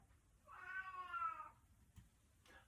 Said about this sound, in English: You can hear the cat. She thinks it's lunchtime.